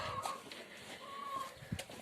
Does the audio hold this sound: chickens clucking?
yes